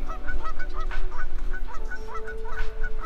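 A goose at Lake Simcoe honks repeatedly in quick, rhythmic calls, loud and fairly close over a low outdoor rumble.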